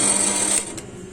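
A power drill bores holes to balance a VR 150 paramotor crankshaft, giving a high, steady whine that runs for about half a second and then winds down, close up.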